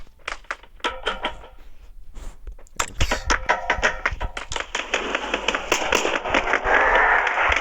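Gunfire from the mobile battle royale game PUBG: New State rings out as sharp, separate shots at first, then denser bursts that run together over a rising background rumble, fairly loud with no talking.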